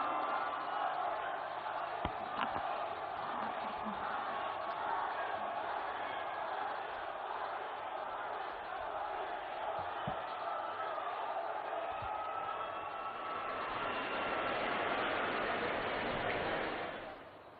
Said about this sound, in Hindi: और एक बार जोरदार तालियां माननीय प्रधानमंत्री जी के स्वागत में